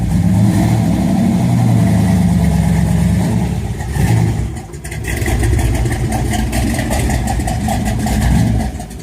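A 1961 Chevy Impala SS with a 409 big block V8 and four-speed gearbox rumbles loud and close, revving hard, briefly dropping off, then climbing again into a sustained roar.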